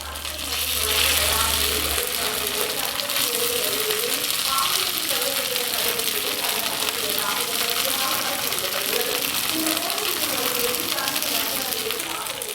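Small chopped idli pieces fry on a hot dosa griddle with a steady, close crackling sizzle, while a voice talks over it throughout.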